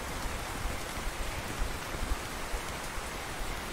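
Steady rain hisses down in the fishing video game Russian Fishing 4, a dense, even wash of drops with small soft spikes, heard alone at low level.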